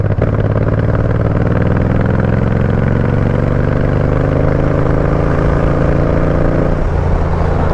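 A Suzuki motorcycle engine runs loud and close, a steady rumbling idle with a slight rise and fall near the end.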